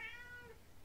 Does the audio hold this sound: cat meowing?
yes